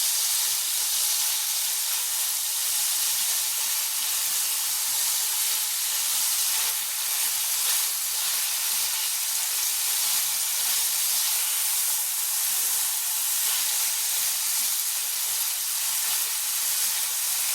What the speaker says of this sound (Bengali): একটু হাই গ্যাসে এটাকে ভেজে নেবো আমি।